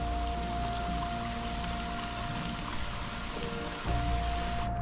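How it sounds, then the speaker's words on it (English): Steady rushing water of a waterfall during rainfall along a bike trail, a continuous hiss and pour with rain pattering on surfaces, nearby and constant. "just a second rest from the rain by the peaceful waterfall"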